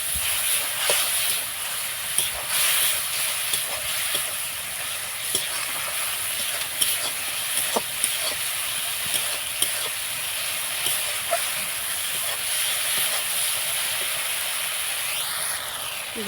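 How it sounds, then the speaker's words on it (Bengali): Spices with a little water sauté in a pan for a Bengali egg and fig recipe, a close steady sizzle and hiss under repeated scraping stir strokes, continuous throughout. "দিয়ে এবার একটু ভালো করে এটাকে কষিয়ে নেব মশলাগুলো।"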